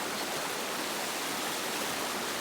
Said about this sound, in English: Here's the water coming out of the spawning channels on the south side.